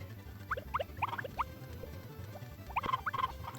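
Chickens in the video game Harvest Moon: Back to Nature make short, repeated clucks in two bursts over a low steady hum, with no talking.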